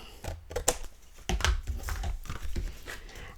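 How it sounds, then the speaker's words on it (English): Paper being trimmed for a junk journal, a string of quick crisp snips and light rustles of handled paper at close range, no talk. "I want it the same height so I'll trim off this bit,"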